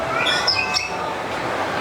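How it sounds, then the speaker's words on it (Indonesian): Several shrill bird calls and squawks of a bird of paradise at a zoo ring out over a steady background hum, with bright chirping notes clustered near the start. "Suara apa tuh? Cendrawasih itu bird of paradise."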